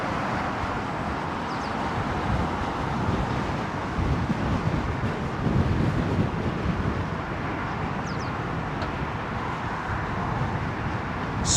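Steady wind rushing and buffeting a microphone near London Heathrow Airport's runway 27L arrivals, a continuous low roar with slight gusts and no clear speech.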